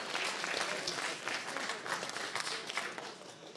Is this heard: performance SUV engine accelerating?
no